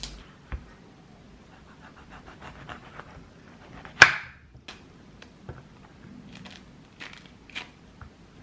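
A snack being bitten into and eaten at home, sparse crunchy crackles and bites with one sharp loud crack near the middle, close to the mic, with no talking.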